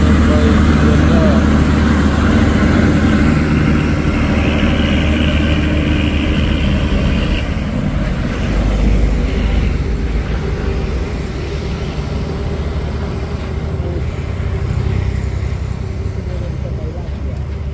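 Three truck trailers labouring on a hill road at Bukit Kodok, a low heavy diesel rumble that holds steady and close throughout, with voices talking over the engine noise.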